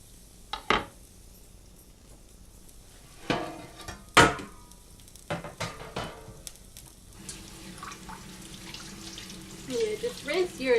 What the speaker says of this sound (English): You just rinse your asparagus off a little.